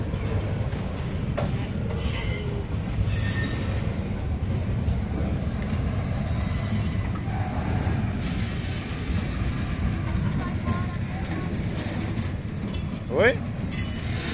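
Old steel mill switching locomotive at the COSIPA works rolling on rails, a steady rumbling and clattering of wheels with a brief metallic squeal near the end, moderately close and continuous.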